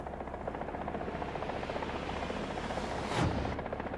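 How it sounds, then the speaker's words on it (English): A hostile helicopter in the War Thunder video game drones with a steady rotor buzz through the whole stretch, loud and continuous, with a brief swell near the end as it seems to pass close. "Hostile helicopter? Methinks yes."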